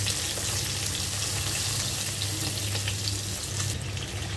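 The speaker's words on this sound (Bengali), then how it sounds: "তো এখন চুলার আঁচটি মিডিয়ামে রেখে এক পাশ ভেজে নিব প্রায় 1 থেকে 2 মিনিটের জন্য।" Walking catfish pieces frying in oil in a pan over medium heat, a steady close sizzle with a continuous crackling hiss throughout.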